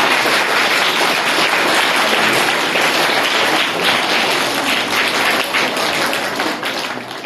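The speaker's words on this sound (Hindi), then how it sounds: "तालियां बजती रहें" Sustained, dense applause from a school audience at an event for World Animal Rights Protection Day, many hands clapping steadily and loudly for the whole stretch without talk.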